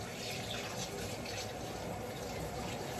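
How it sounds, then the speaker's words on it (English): Warm or hot tap water poured into a frying pan, a dense, continuous rushing pour, close and steady throughout the short clip with no talk. "So I'll just chuck a bit of warm or hot water if you got it, just out of the tap."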